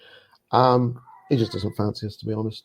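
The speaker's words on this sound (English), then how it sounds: "That's my cat still in heat in the background." A cat in heat meows loudly in a long drawn-out yowl near the start, followed by further harmonic cries mixed with a man's speech.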